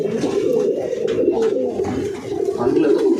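Tournament racing pigeons coo steadily in a loft, a soft continuous low burbling that stays close and fairly loud throughout, with a few faint chirps mixed in.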